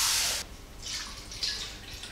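Water is poured from a cup into a pot while cooking Cameroonian corn pap, first as a bright rushing splash, then as softer trickling and splashing close by.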